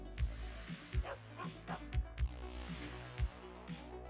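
A small dog yips and whimpers in short bursts, about eight quick, faint barks spread irregularly over a few seconds, with soft whining in between.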